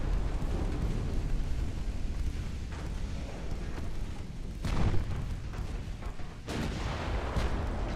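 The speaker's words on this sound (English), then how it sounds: "I think they got another battleship shooting in our direction." Heavy battleship gunfire in the naval warfare game Ultimate Admiral Dreadnoughts, a dense continuous rumble of booming artillery with several louder blasts standing out, no talking.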